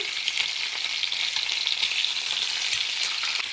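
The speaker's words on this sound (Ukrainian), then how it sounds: "Так, реберці обсмажуються." Pork ribs sizzling in a frying pan, a steady close crackle and hiss of hot fat that runs unbroken with no voices.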